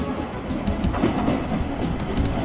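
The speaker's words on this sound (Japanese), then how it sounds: "まもなく列車が参ります。" A train pulling into a station platform in Japan, a steady low rumble with faint rail clatter and wheel noise, continuous and fairly loud, with no talk.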